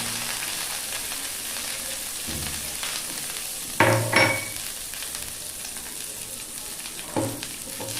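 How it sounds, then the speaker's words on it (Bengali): Raisins frying in hot ghee while making carrot halwa: a quiet, steady sizzle runs throughout, broken by a few sharper stirring clatters near the middle and again toward the end, with no talking. "ধুয়ে তারপরে কিন্তু আমি এই গরম ঘিতে একটু ভেজে নেব।"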